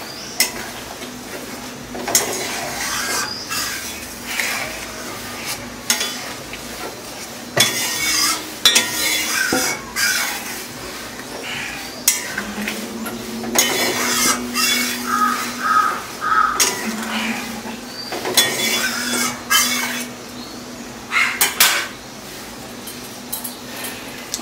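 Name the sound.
stirring egg malaikari with coconut milk in a pan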